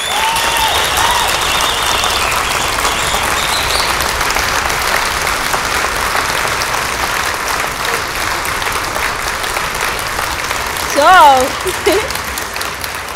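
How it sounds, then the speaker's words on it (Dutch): Loud, sustained audience applause fills a writers' festival hall, steady broadband clapping throughout with a brief exclamation near the end as a voice speaks over it. "En met bezieling, hè, dat applaus."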